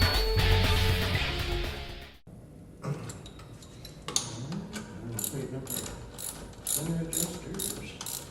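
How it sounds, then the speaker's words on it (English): A ratchet wrench clicks in quick repeated bursts while tightening bolts on a Can-Am X3 pneumatic primary clutch, close and crisp, following a loud mechanical whir at the start; no talking. "Get those tightened up, and then we'll snug up these adjusters there."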